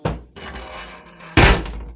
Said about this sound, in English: he shut the vault door on us